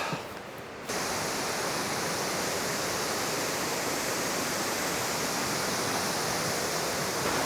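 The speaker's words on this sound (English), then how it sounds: "you can hear the waterfalls in the distance" Steady, dense rushing water roars continuously, a broad unbroken wash of falling water heard from some distance with no other sounds.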